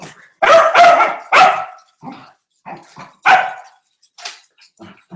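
Dogs at home bark in several loud, close bursts, some overlapping, with quieter yips and whimpers between them.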